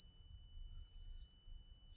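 Electronic ringing tones during a paranormal ghost-communication session sound as steady, high, pure sine-like tones that hold through the whole clip, with faint low rumble underneath and no talk.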